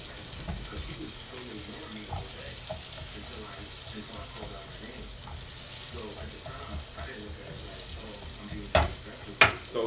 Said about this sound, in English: We add our onions to our pot. We want onions to get nice and sweated down.